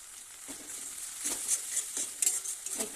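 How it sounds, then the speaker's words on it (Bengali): Gobindobhog rice sautéing with salt and spices in a pan, a soft sizzle broken by several brief scraping strokes of a spatula, fairly quiet and close. "চালটা দিয়ে একটু ভালো করে আরেকটু কষিয়ে নিব"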